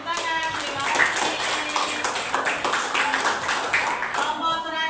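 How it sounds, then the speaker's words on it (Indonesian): Applause in an Indonesian eighth-grade science classroom for a group's presentation, a dense steady patter of many hands clapping for the full stretch with a teacher's voice and chatter faintly mixed in. "Ayo kita beri tepuk tangan."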